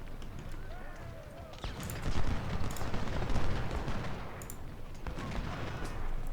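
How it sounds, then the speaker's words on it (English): Cannon and artillery fire in the Civil War strategy game Ultimate General: Civil War, with repeated booming shots and crackling volleys over a dense battle din, steady and loud throughout. "Cannons and all sorts."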